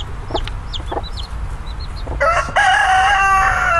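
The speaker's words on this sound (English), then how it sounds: "Let me tape those chicks." Close, loud chicken clucks and chirps from young chickens, then a rooster crows strongly over them, with no talking.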